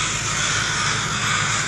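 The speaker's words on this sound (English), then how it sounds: "It's one eagle versus like 50 crows." A large flock of about fifty crows caws while mobbing an eagle perched on a road, a loud, dense, continuous chorus of overlapping harsh calls with no speech.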